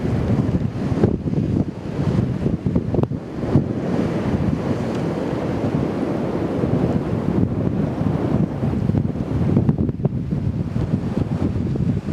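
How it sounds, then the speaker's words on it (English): Strong wind buffets the microphone over ocean surf on the Pacific side of Catalina Island, a loud, continuous roar with rolling swells of waves and gusty rumbles throughout. "Alright, there's the Pacific Ocean."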